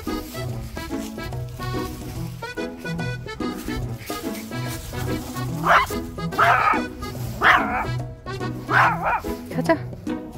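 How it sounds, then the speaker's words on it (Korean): A small Maltese dog barks and yips repeatedly on a walk, close and loud in bursts, with a few whimpers between. "왜 거기다 대고 자꾸 짖어?"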